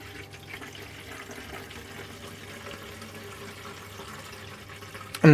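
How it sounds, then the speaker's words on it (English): Water trickles and flows quietly and steadily as it is siphoned into the condenser of a homemade r600a refrigeration system, with a low hum beneath it and a sharp louder sound at the very end. "So I'll just siphon some water in."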